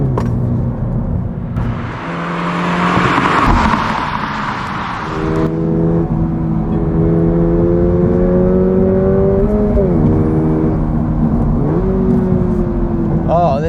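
2024 Subaru BRZ tS driving on a wet country road, engine droning and rising in pitch through the gears with tire hiss, heard from inside the car while someone talks intermittently.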